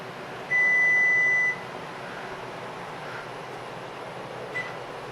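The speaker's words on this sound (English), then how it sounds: "I'm going to set the timer for 15 minutes." A kitchen timer gives one steady electronic beep lasting about a second, set while peach jam jars are being canned, over a constant low hiss of boiling water and stove noise.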